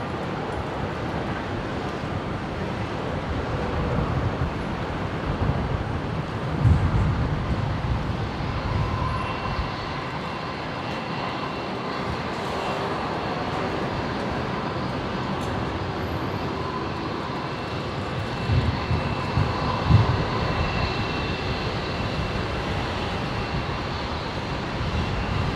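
Alliance Fokker 70 jet airliner taxiing out at Brisbane airport, a steady broadband roar of distant engines with mild swells, heard alone without voices.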